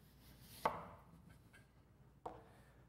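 A knife splits an extruded soil sample from a Proctor compaction test, giving two distinct cutting thuds about a second and a half apart, close and fairly quiet, with no talk.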